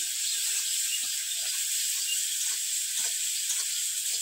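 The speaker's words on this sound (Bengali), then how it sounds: "জল দিয়ে কষে নেবো মশলাটা, যাতে পুড়ে না যায়।" Spice paste of chilli powder frying with a little water in a pan for a small-fish curry, giving a loud, dense, unbroken hiss that stays close and even throughout, with no voices.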